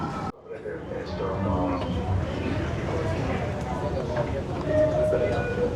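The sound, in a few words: Yamanote line train at Shibuya Station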